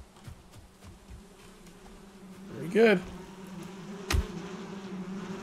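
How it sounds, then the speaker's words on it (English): Bees buzz around a bee's nest in the Valheim video game, a low droning hum that swells briefly, with a sharp hit and a voice speaking over the game sound. "Oh, it was the bee's nest."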